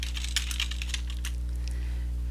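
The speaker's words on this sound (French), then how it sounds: "je peux aller écrire du texte avec mon clavier" Text typed on a computer keyboard, a close run of quick, irregular key clicks over a steady low hum, fading to sparser taps toward the end.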